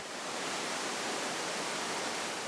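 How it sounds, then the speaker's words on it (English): Niagara Falls in Oregon pours down into Niagara Creek below, a steady, dense hiss of falling water that stays unchanged throughout, alone and without voices. "We're looking at Niagara Falls and Niagara Creek down below us"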